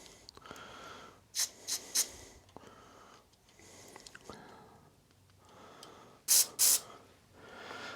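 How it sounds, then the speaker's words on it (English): Carb cleaner sprayed onto a lawn mower carburetor in short hissing bursts, a few quick blasts early on and two louder, longer sprays near the end, close up with quiet handling noises between. "Spray the whole mess down."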